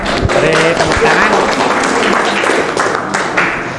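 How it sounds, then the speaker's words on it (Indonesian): Audience applause at a school student council debate, a dense burst of clapping from a crowd that stays fairly steady for a few seconds, with some voices mixed in. "Beri tepuk tangan."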